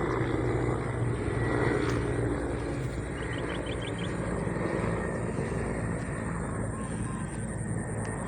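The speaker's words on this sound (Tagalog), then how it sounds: "Helicopter." A helicopter flies over open farmland in San Mateo, a continuous low rotor rumble and drone holding steady throughout against a noisy outdoor background.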